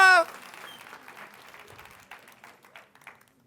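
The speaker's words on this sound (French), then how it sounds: "on leur donne une bonne main d'applaudissements" Scattered applause from an improv match audience tapers off after a short tone at the start, the claps growing sparse and faint toward the end.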